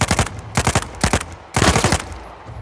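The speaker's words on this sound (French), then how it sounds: "Il me tire dessus." Enemies fire on the player in Uncharted 4 with loud, close automatic gunfire, rapid bursts of shots in three rattling volleys with brief pauses between them.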